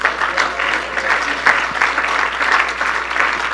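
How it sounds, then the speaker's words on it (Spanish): A church congregation applauds for Jesus during a Spanish-language sermon, a dense wash of many hands clapping at a steady loud level for a few seconds, without speech. "Dele un aplauso a Jesús,"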